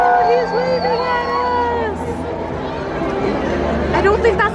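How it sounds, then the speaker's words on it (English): A large crowd at St. Peter's Basilica cheering and screaming as a priest waves from the roof, loud whoops and shrill voices rising from a dense babble of chatter close by. "everyone just started cheering and screaming as if it was the Pope"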